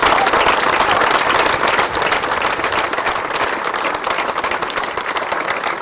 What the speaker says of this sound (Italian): Un lungo applauso all'uscita della barra dalla chiesa di San Pietro a Mezzana per l'ultimo saluto a Gaddo Giusti